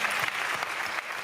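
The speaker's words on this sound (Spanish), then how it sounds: "yo os pido que les brindamos y les brindemos un fuerte aplauso." A school science-day audience at IES Maestro Gonzalo Korreas in Jaraíz de la Vera gives loud, dense applause, a continuous close wash of clapping with no voices over it.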